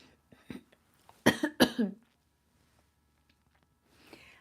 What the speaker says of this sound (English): I'm trying to not cough.